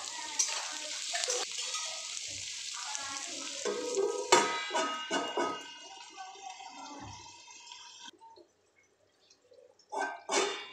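Beans and carrots sizzle in hot oil as a spoon stirs and scrapes the pan in irregular strokes, the frying fading to a quieter hiss before a couple of final clatters.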